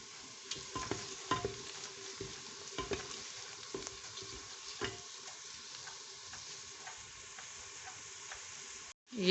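Onions frying to golden brown in a pan for a dhaba-style aloo qeema, with a steady soft sizzle and scattered light scraping and clinking of stirring, fairly quiet and without talk.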